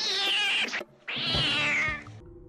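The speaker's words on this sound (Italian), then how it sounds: "and then it's a cat." A cat meows loudly in a horror film jump scare, giving two drawn-out, close cries with a brief gap between them.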